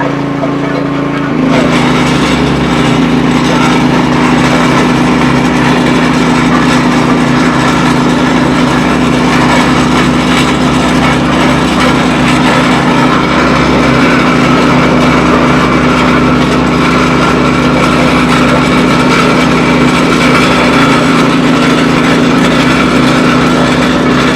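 Groundhog RH14G road roller engine running steadily at easy throttle, a loud continuous drone with a strong low hum that stays even throughout, no talk over it.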